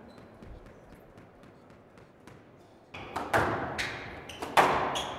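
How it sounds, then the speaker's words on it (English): A professional squash match ends with a hard forehand. Faint rally taps are followed by several loud, sharp thwacks and bounces of the ball off the walls, with some crowd noise. "There's the thunderous forehand."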